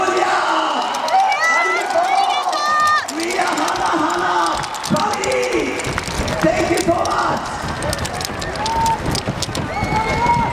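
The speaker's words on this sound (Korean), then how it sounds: "방금 박수 한번 부탁드립니다." A lively audience at a yosakoi dance main stage in Korea cheers and shouts, with a dense wash of crowd noise and scattered clapping building toward the end, while voices call out over it.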